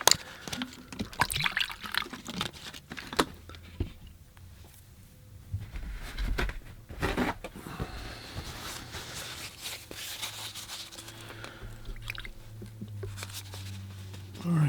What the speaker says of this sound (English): see if I'll put some fresh water in my water bucket